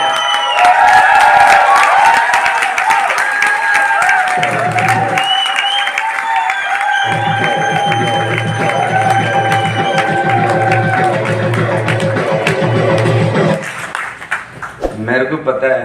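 An audience claps and cheers loudly and continuously at a business event, with music and a voice over it, fading to scattered claps at the end.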